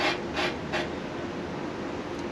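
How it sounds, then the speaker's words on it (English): Sandpaper rubs a seed by hand in three quick rasping strokes, then settles into softer continuous scratching, close and fairly quiet. "so got our sandpaper here, got our seed"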